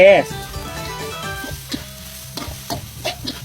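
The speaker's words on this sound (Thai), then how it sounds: "ผัดให้แห้งๆนิดนึงนะแก เพราะว่าข้าวผัดนี่คือแบบจะต้องแห้งๆนิดนึงเนาะ" Fried rice stir-fried until dry in a hot pan, with loud close sizzling and repeated rhythmic scrapes and clanks of a spatula against the metal, alone without talk.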